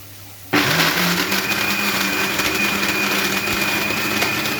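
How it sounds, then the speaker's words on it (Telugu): A mixer grinder starts abruptly and runs at a steady, loud, high-pitched whir as it grinds spices, continuing without pause to the end. "ఇప్పుడైతే ఈ మసాలా కూడా అంతా మిక్సీ పెట్టేస్తున్నాను"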